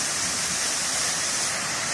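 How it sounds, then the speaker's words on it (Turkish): A village waterfall roars in a steady, dense rush of falling water, close and continuous with no voices. "bu ay yıldızın şelalesi"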